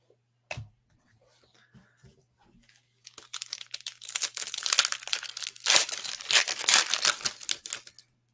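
Wrappers on sports trading card packs crinkle and tear as they are opened, starting with a few isolated rustles and then turning into a dense, continuous crackling close to the mic for the last several seconds.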